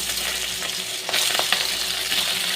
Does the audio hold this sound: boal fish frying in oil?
yes